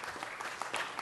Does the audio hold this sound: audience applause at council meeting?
yes